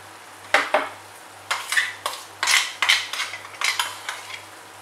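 A spoon scrapes and clinks against a pan as prawn masala with chili powder, turmeric, coriander, garam masala, cumin, pepper and fennel powder is stirred, in about ten quick, irregular strokes at close range with no talking.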